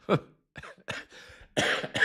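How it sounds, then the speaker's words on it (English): Several harsh coughs in a row, close and fairly loud, with short breaths and pauses between them. "I can't laugh because then I cough."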